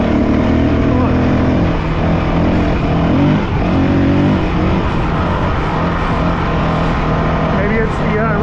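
A Honda CRF450L motorcycle engine drops off throttle, its loud close rumble shifting from revs into a rough, burbling coast-down with changing pitch, while wind noise roars over it.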